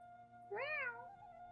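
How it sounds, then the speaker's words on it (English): A pet cat gives a single close, clear meow that rises and falls over about half a second, against a quiet room background. "You hear my cat?"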